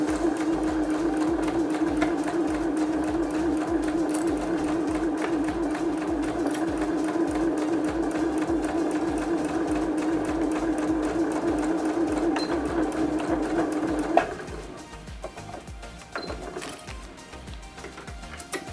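A sewing machine stitches along the fabric edge of a small pad holder, a fast, even mechanical hum with rapid needle ticking that runs steadily for about fourteen seconds before stopping, followed by quieter handling noises.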